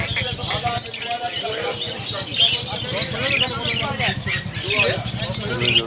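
Lovebirds and budgies at a busy Serampore bird market chirp continuously in a dense, overlapping chatter, with someone talking over the birds throughout.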